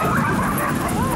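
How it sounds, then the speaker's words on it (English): Dozens of sled dogs on a snowy mountain bark, yip and whimper all at once in a dense, continuous din, with human voices faintly mixed into the chorus. "We must have 60 dogs out here."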